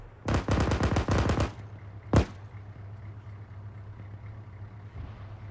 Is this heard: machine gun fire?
yes